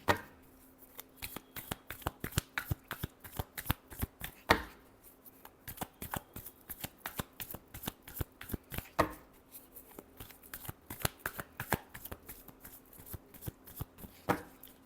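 Tarot cards are shuffled continuously by hand, a dense run of quick riffling clicks and flutters in repeated bursts, close and fairly soft, with no talk.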